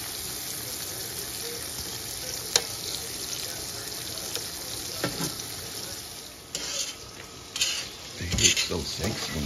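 Spicy Cajun andouille sausage browning in a frying pan for gumbo, a continuous sizzle with occasional utensil clinks and stirring scrapes, and faint background voices toward the end.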